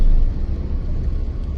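Slow local traffic on a narrow road, a steady, close low rumble of vehicles with no clear passes.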